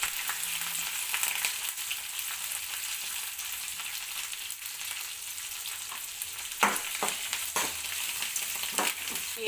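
Spices tempering in hot oil in a pan while making udukudu pindi, with curry leaves and dals in the mix: a steady, close sizzle and crackle with occasional sharp stirring knocks against the pan.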